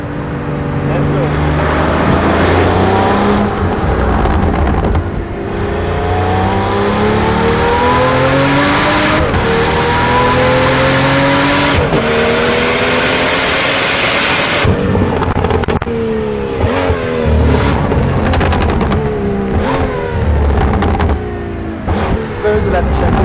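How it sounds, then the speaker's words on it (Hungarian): A Pagani sports car engine revs hard and loud, rising and falling through repeated throttle sweeps with sharp gearshift breaks, close to the microphone throughout. "Bődületesen gyönyörű hangja van az autónak"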